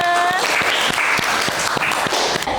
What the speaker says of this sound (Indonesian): kasih tepuk tangan untuk Mbak Najwa.